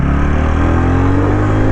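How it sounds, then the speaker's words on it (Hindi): A TVS Ronin 225cc motorcycle rides through city traffic, its exhaust giving a loud, steady low thrum at a constant pace, close to the microphone with no break. "सिर्फ और सिर्फ साइलेंसर का आवाज़ आ रहा है।"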